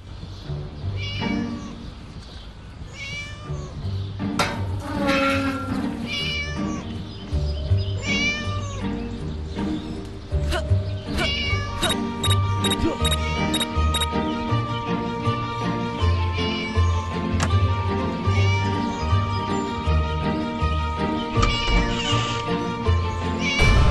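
A cat locked up in the Scary Teachers video game, meowing and caterwauling repeatedly in loud, drawn-out cries with game music and effects behind it, no talking.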